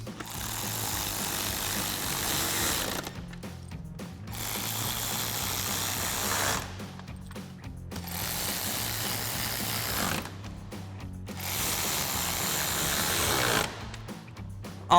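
A ratchet with a 10mm socket reinstalls grill screws on a 2011-2016 Ford F-250, heard as a steady close buzzing whir broken by several short pauses, with no speech.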